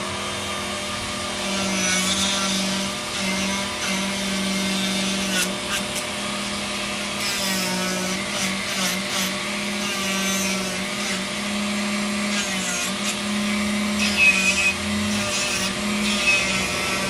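A power sander works a wooden scroll-saw toy with 120 grit sandpaper, giving a continuous droning whir with shifting grinding tones as the pad moves over the wood, steady and close, no talking.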